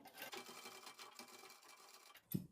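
Sewing machine stitching a shirt cuff with buckram interfacing, a quiet rapid chatter of needle strokes that ends with a brief sharp clunk.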